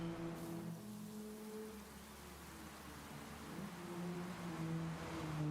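Steady rain hiss during a Gran Turismo 7 race, a broad even wash of falling water over low droning car engine tones that hold and shift, continuous and moderately loud with no talking.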